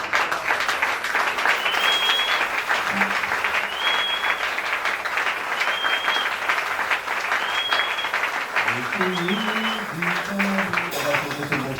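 A church congregation applauds steadily and loudly throughout, with the clapping running continuously under a few faint vocal calls and a brief tune near the end.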